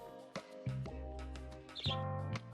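Short, polite bird squawks from the SkateBIRD skateboarding video game, a few brief chirpy cries over a bed of game music.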